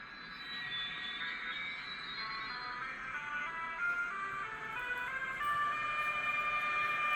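A Roco 7520036 model locomotive's sound decoder plays its start-up effect: a steady, siren-like whine of layered tones that swells slightly and holds without a break.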